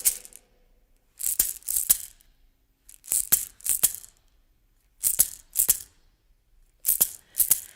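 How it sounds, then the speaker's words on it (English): Sharp, bright claps come in short groups of two or three with pauses between, a steady rhythmic pattern of hand clapping close by. "And clapping along can sound like this."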